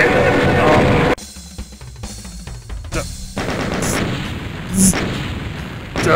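A double-barreled shotgun in a modded Doom game blasts several times in quick succession, loud and close amid dense gunfire, with a voice talking over the action.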